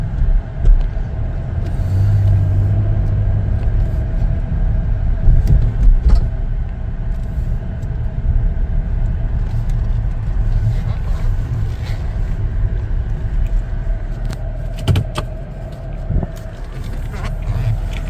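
A 2021 Chevrolet Traverse LT on the move, heard from inside the cabin as a steady low road rumble and engine drone with occasional light knocks and clicks, continuous for the whole stretch.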